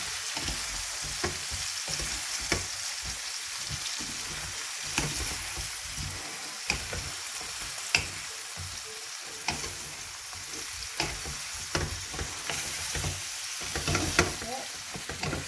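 Chinese fried rice tossed and stirred in a hot pan, a steady crackling sizzle broken by repeated scrapes and clicks of a utensil against the pan, close and continuous with no talking.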